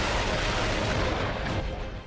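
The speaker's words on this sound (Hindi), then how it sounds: "रॉकेट लॉन्चर सिस्टम एक्शन में आ गया।" Indian Army rocket launcher system firing during an artillery exercise, a loud sustained blast roar that rumbles on and then begins to fade near the end, with no voices.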